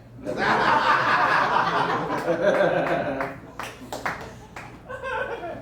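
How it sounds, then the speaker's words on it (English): Laughter and clapping from a comedy show audience rise together, loud and sustained, then taper into scattered claps and chuckles. "Applause break, I'll take it from the front row."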